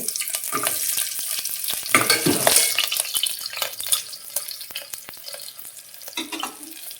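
Onions sizzle and crackle in a hot pan for mutton curry while a utensil stirs and scrapes now and then, close by, with no voices.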